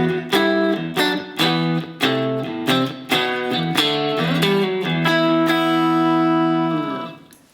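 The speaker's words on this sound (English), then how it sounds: "If I were to unplug this and just use the onboard speaker" A smart guitar unplugged and heard through its own onboard speaker plays a riff of rhythmic chord stabs and picked notes, ending on a sustained ringing chord that fades out.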